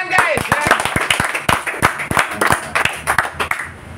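Audience clapping after a talk at a Christmas-time religious gathering, sharp uneven handclaps from a modest crowd, loud and close, continuing steadily for several seconds.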